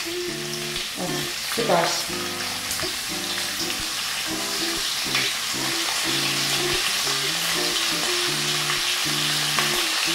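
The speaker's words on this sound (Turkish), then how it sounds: "Yağım iyice kızdı. Şimdi etlerimi atma zamanı." Beef pieces for stroganoff drop into hot oil in a pan and sizzle loudly and steadily, with spoon stirring clatter and a brief spoken remark over the frying.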